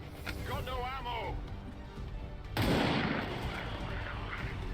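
Gunfire in Fallout: New Vegas: a sharp burst of shots comes in mid-clip, louder than what surrounds it, with a person talking just before.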